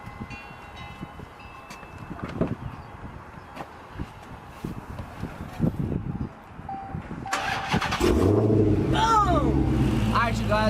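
A Dodge Hellcat fitted with a B woody intake cranks and fires up, its engine catching loudly near the end after a stretch of quiet handling noises and voices.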